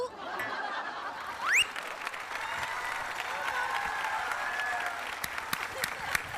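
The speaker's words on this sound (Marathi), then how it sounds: "टाळ्या कसल्या वाजवतोयस भालचंद्रा?" Clapping in a comedy-show classroom skit, a steady patter of applause continuing throughout with brief chuckles and a short whistle-like sweep near the start.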